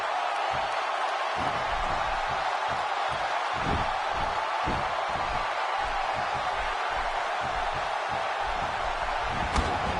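Sold-out arena crowd in a PS4 wrestling video game, a steady broad roar of cheering with scattered thuds and slams underneath throughout.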